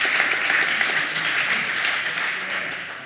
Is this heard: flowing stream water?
no